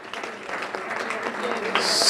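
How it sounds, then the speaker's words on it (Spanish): A community committee gathering for Hispanic Week in Lawrence breaks into applause, a soft continuous patter of clapping from the room mixed with overlapping voices. "Un aplauso para ellos."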